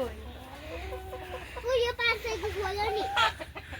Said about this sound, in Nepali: कुखुराको ग्वाला हो त